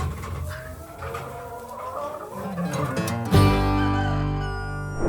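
Hens cluck and chatter around a henhouse over a busy farmyard background, then a steady sustained tone swells in and takes over near the end.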